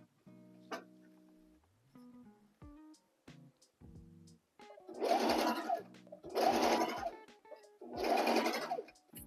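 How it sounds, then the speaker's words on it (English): Sewing machine running a single basting stitch through dress fabric, three loud bursts of rapid mechanical stitching after several quieter clicks and handling noises near the start. "like just a single stitch everywhere I pinned so that I can sort of try it on my body"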